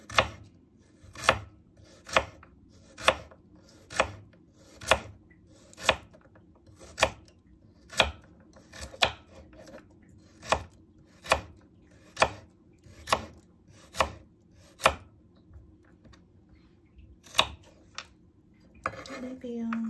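A knife chops a carrot on a board in a home kitchen, about fifteen sharp, evenly spaced thuds at a slow, steady pace, close and clear against a quiet background.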